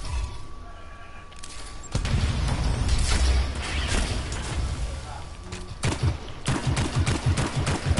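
Weapon fire from a Predator-styled javelin exosuit in the video game Anthem: bursts of rapid shots and impacts with booming hits, fairly loud over game ambience.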